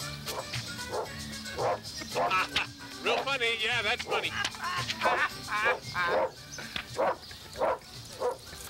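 A dog barks and yips in bursts over a man's speech around a truck in a yard, the barks loud and near, alternating with the talk.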